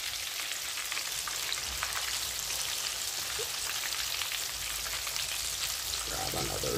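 Shrimp frying in hot oil give off a steady, dense sizzle that crackles and spits continuously close by, with no speech over it.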